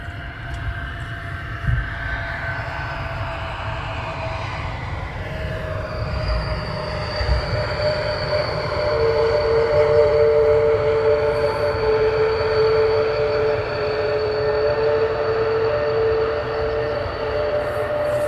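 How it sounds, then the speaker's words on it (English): An airliner rolls out after landing at London Luton Airport with reverse thrust and spoilers deployed, a steady roaring rumble with rising whining tones building and sustaining for many seconds at moderate distance. "Up the reverse thrust and the spoilers are up."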